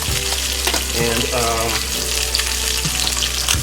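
Butter sizzles and fries in a pan with minced garlic, a steady close crackling hiss running throughout with a low hum beneath and a brief spoken word over it.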